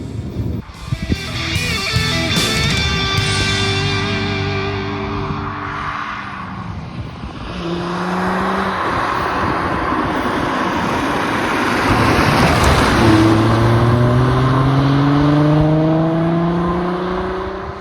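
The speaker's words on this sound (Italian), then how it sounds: "guidare questa GTV con i suoi 6 cilindri che cantano" An Alfa Romeo Alfetta GTV6 six-cylinder engine revs up and down through the gears while driving, loud and close, with the pitch climbing on each acceleration.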